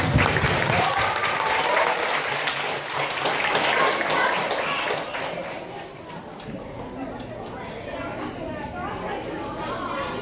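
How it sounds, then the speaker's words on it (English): A crowd at a 5th-grade graduation applauds with dense, sustained clapping that gradually thins out, mixed with cheering and chatter. "let's give a big round of applause for these folks."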